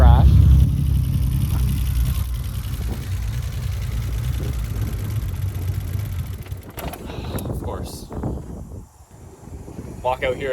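Turbo-converted BMW E28 engine running rough near the microphone, a steady low rumble with wind buffeting, fading and breaking up toward the end amid footsteps and handling noise.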